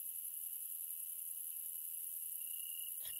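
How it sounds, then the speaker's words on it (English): Crickets chirp in the night ambience of the pre-alpha Hello Neighbor video game: a steady, high, continuous trill that stays faint and unbroken, with one soft thump right at the end. "I don't like these crickets. For me, they're really loud"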